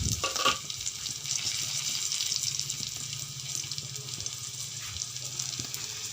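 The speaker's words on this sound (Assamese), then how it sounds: "পিঁয়াজখিনি ৰংচোৱা হোৱালৈকে ভাজি থাকিব লাগিব" Onions with turmeric fry quietly in a pan, a low steady sizzle with faint crackles and a short clatter at the start, heard alone without any talk.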